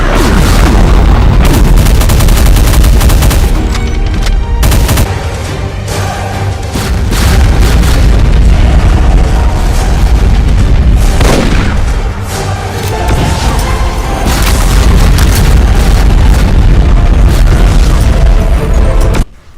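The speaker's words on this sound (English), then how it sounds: "Firing spreads of blast trail damaging plasma projectiles." Spreads of blast-trail plasma projectiles in a modded Doom game, a relentless wall of loud booming explosions and gunfire-like bursts with brief lulls, heavy and close throughout.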